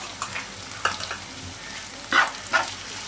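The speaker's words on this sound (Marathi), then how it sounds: "ते सुद्धा मिश्रण आपण छान हलवून घ्यायचं आहे" A spoon stirs chicken crispy chilli with spring onion in a sizzling pan, giving steady frying crackle and a few scraping clinks close by, with no one talking.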